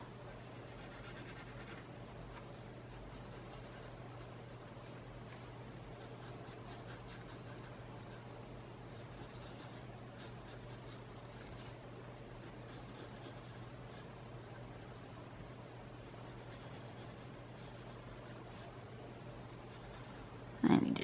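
A pencil shades on paper in a long, continuous soft scratching and rubbing, close and steady, with a brief bump right at the end.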